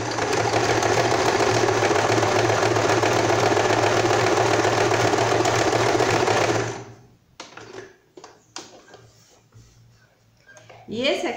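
An Elgin sewing machine stitches a dense satin-stitch embroidery on a quilt piece, a steady fast close whirr for about six seconds that then stops, leaving light handling noises and a brief voice.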